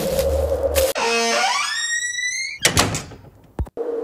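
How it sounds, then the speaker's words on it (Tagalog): A door suddenly slamming shut as a sound effect in a haunted abandoned house, a sharp loud bang with a ringing metallic tail, followed by further heavy thuds and a short break into silence. "Biglang sumara ang pinto sa likod namin."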